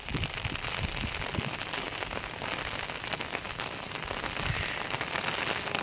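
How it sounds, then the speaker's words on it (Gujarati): Steady rain patters on nearby surfaces, a dense, even hiss of drops that continues unbroken with no voices. "અમારે આ વરસાદ ઓછો હે"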